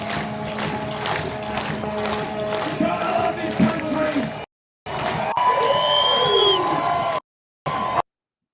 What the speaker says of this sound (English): That's our Aussie brothers and sisters doing their freedom march down there.